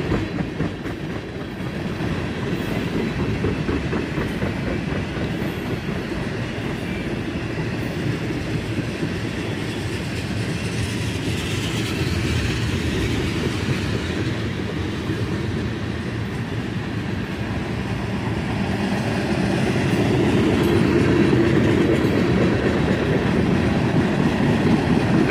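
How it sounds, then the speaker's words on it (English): A CSX freight train passing a cut of tank cars near Trenton and Hamilton: a continuous low rumble with rhythmic clickety-clack of wheels over rail joints, steady and fairly close, growing slightly louder near the end, no talk. "And now we're into a decent cut of tank cars."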